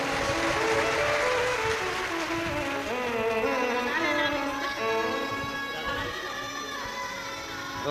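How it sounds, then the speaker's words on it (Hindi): A large audience at a Shiv Mahapuran katha in Surat, Gujarat claps loudly and continuously, a dense sustained wash of applause blended with music throughout. "एक बार जोरदार ताली बजाओ।"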